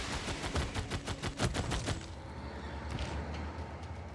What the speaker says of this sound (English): I'm going to quickly focus my artillery on Los Angeles